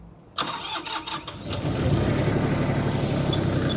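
A Japanese MT241 tractor engine cranks with a few stuttering turns, catches, and settles into a steady, rumbling run nearby.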